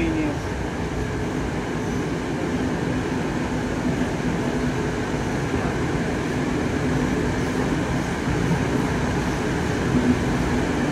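Inside a Moscow-2019 metro train on Moscow's Big Circle Line, departing Klenovy Bulvar: a continuous rumbling roar of wheels and motors with a faint steady whine, loud and unbroken throughout.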